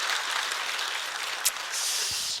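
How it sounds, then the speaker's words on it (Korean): A church congregation claps together at an early-morning prayer service, a steady, dense wash of applause lasting the whole moment at an even level. "우리 하나님께 영광의 박수를 올려드립니다."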